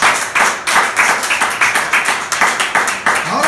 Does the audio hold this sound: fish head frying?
no